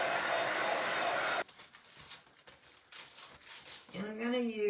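A hand-held dryer blows steadily on a DIY patriotic door hanger, then cuts off abruptly, leaving soft handling noises before a voice begins speaking.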